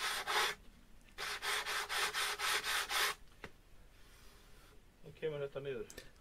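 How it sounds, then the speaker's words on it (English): Sandpaper rubbed by hand over a workpiece, working slowly: one long stroke, then a run of about eight steady rhythmic strokes, close and fairly loud, with a short voice near the end. "The only thing you have to look out for is not to go too fast. Just let the sandpaper work"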